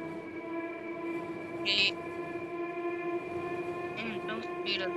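A train runs in the RG Train Tech Demo video game, with a steady droning hum of wheels and motor and a few short, bright horn-like tones above it.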